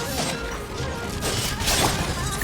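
A burst of glassy shattering and crashing effects rings out as an illusion is shattered in a video game, over a dense, busy game soundscape, swelling loudly near the end.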